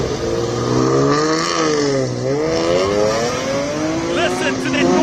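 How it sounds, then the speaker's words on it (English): A BMW E36 M3 with a naturally aspirated six-cylinder accelerating uphill at a classic car speed event, its engine note rising and falling through the gears, loud and near, with a commentator talking over it. "Listen to that normally aspirated 6-cylinder up the hill."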